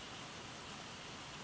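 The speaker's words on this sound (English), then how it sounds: "It is raining. It's slowed down a little bit now, but it is raining rather hard still." Heavy rain pours steadily and densely on surfaces throughout, a constant close hiss of drops with no voices, falling hard under low clouds.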